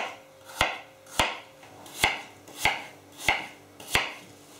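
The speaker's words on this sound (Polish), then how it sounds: "Ubrane jabłka kroję na plasterki" A knife slices peeled apples on a board in six evenly spaced, crisp cuts, each ending in a sharp close tap, with no talk.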